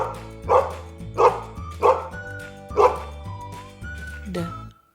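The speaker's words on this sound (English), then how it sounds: "Dog." A dog gives about five loud, evenly spaced barks over a steady musical backing, then a softer whimpering yelp near the end.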